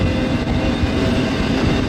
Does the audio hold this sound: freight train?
yes